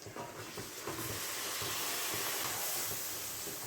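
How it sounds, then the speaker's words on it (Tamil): Sliced onions frying in hot oil in a pan for onion thokku, giving a steady, loud, broadband sizzle and hiss that swells after the first second and holds without a break. "இப்போ வெங்காயத்தையும் நம்ம இந்த எண்ணெயில் நம்ம போட்டுக்கலாம்"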